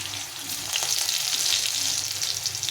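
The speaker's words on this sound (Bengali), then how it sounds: "এখন আমি এই সবজিগুলো আগে ভেজে নেব একটু প্রথমে আলুটাকে দিয়ে দিলাম" Potato pieces and vegetables hiss and crackle in hot oil with panch phoron spices, a steady close sizzle that swells midway, with light stirring and no voices.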